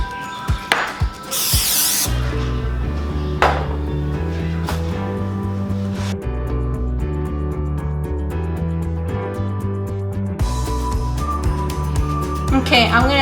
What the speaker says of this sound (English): I'm gonna get a pizza pan and then I'm just gonna spray it.